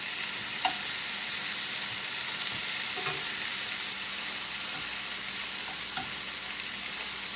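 Pork frying in a pan, with steady broadband sizzle and spatter throughout and a few brighter pops and crackles standing out; no voices.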